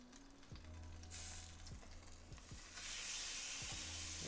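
Chicken skin frying in a pan for Venezuelan hallacas, a faint continuous sizzle that swells into a louder hiss partway through, with low periodic tones underneath.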